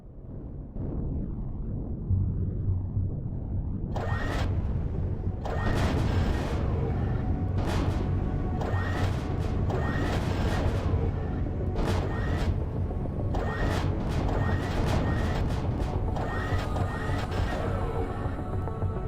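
Explosions go off one after another in a chain in the video game Empyrion Galactic Survival. Repeated loud booms and bursts fire in quick succession over a constant rumbling background.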